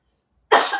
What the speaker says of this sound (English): I got a cough. That pepper always get them.